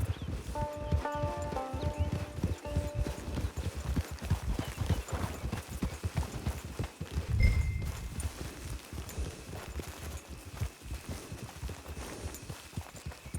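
Horse hooves clop in a steady walking rhythm on the ground in Red Dead Redemption 2 Online, close and continuous, with a brief snort or stamp midway.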